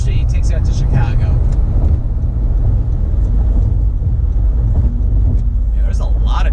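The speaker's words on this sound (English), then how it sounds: "there's a lot of traffic on 23 today" Steady road and engine roar from a car driving in heavy highway traffic on US 23 in southern Michigan, with voices talking intermittently over the constant drone.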